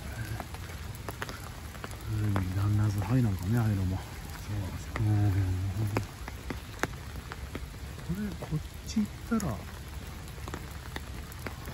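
Heavy rain falls steadily outdoors, a dense hiss of drops on surfaces throughout, while two people walk and chat underneath it.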